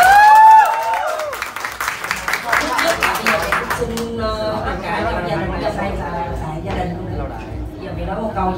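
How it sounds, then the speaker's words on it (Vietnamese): People gathered at a birthday party applaud, a burst of clapping and cheering that rises after a loud opening and then settles into chatter and crowd babble. "Ôi, vỗ tay mọi người."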